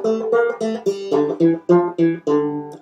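A banjo picks out a slow single-note melody, each bright note ringing briefly before the next, about a dozen in steady succession.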